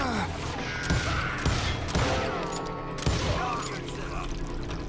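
Bursts of pistol fire from dual-wielded akimbo revolvers in the Western shooter Call of Juarez: Gunslinger, several sharp shots spaced across a busy, layered game soundscape with a voice faintly mixed in.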